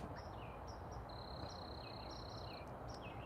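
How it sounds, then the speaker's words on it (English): Birds and crickets chirp outdoors, scattered high tweets and a long steady insect trill over a constant low background hiss, fairly faint and without talk. "there's crickets and birds and all kinds of who knows what."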